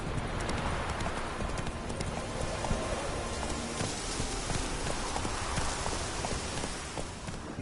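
Hooves of Roach, Geralt's horse in the video game Witcher 3, clip-clop in a fast, continuous galloping rhythm, loud and close over a steady rain-like wash of ambient noise.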